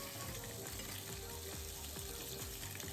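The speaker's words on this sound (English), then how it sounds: "Spread it out in the pan without overlapping and cook it." Pork belly slices sizzle in an okonomiyaki pan, a steady dense frying hiss throughout with low rumble underneath, close and continuous, no voices.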